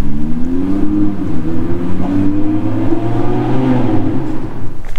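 Yellow Audi R8 supercar accelerating nearby, a loud sustained engine note climbing steadily in pitch through the gears.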